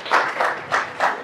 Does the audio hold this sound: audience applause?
yes